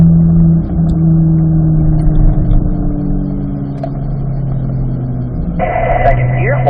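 A car engine holds a steady mid-range drone while driving a cone-marked course in second gear, with the pitch rising slowly and a brief higher whine near the end. Someone talks over it throughout.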